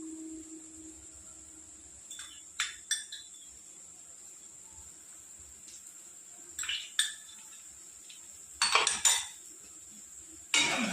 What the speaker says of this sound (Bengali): একটু নেড়ে চেড়ে কষিয়ে নেব একটু ভাজা ভাজা হলে